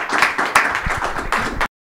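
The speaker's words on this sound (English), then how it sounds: "how about a round of applause here?" A round of applause from a conference audience for a panelist, loud, close, uneven clapping for under two seconds with distinct individual claps before it cuts off.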